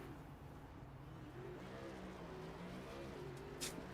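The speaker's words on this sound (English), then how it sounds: "Jonathan Parker doing his burnouts" An iRacing race car doing burnouts after a race at Homestead-Miami Speedway, its engine a faint, steady drone with wavering pitch, distant and continuous, with a short sharp squeal near the end.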